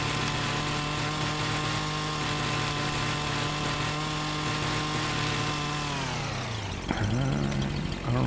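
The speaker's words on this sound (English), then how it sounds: "The 21 meter spruce tree. Let's see if we can trim it." Machine trimming a 21 m spruce in Farming Simulator 25: a steady, loud mechanical drone with a constant engine pitch runs for about six seconds, then dips and stops before a brief rougher burst at the end.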